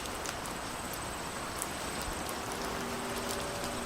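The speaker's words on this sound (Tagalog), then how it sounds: "Umuulan kahit walang ulap?" Steady rain falls in a dense, even hiss with scattered sharper drop ticks, moderately quiet and continuous, with no voices.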